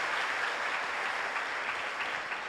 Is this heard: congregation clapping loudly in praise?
yes